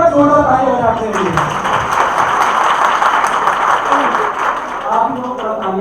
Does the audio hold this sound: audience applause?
yes